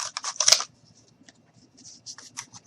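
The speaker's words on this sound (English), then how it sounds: "I am just going to go ahead and cut. And I'm cutting some more" Scissors snipping through cardboard, a dense burst of crisp cuts early on, then quieter scattered snips and a few more short cuts near the end, close and fairly faint.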